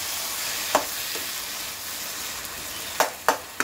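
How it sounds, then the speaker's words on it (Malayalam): Fish masala with tomatoes cooking in a pan for hamour fish biriyani, a soft steady sizzle with a few sharp louder clinks or stirs, close and alone without talk. "ഇതെല്ലാം തക്കാളിൻ്റെ കൂടെ കിടന്ന് വേവട്ടെ"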